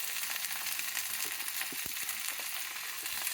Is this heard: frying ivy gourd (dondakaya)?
yes